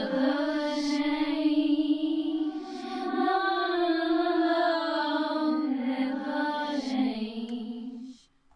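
A sustained sung vocal with reversed reverb, smooth and tonal, held across long notes with a swelling, smeared ambience, ending with a quick fade.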